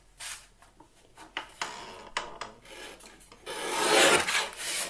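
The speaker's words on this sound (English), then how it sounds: "I'm also trimming a little bit off the sides because I want to give it a little bit of a border" A handheld paper trimmer slices through card, with several short, close rasping strokes followed by one longer, louder continuous cutting swipe.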